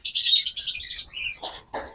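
Pet birds of a local breed chirping close by, a dense run of high twittering calls followed by two shorter bursts of rougher squawks.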